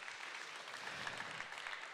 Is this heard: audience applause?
yes